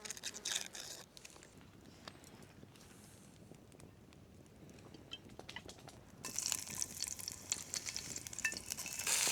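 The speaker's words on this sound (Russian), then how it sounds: "Жарится, конечно, моментально." Food frying on an outdoor gas burner outdoors: a soft, steady hiss that stays faint at first, then swells into a louder broadband sizzle in the last few seconds, with scraping and stirring clatter and a light breeze. No one speaks.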